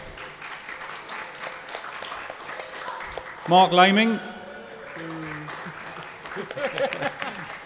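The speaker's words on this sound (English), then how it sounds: "Here, round of applause." Applause from a comic con panel audience for a guest, a moderate spread of clapping from a seated crowd, with a voice speaking and laughing over it.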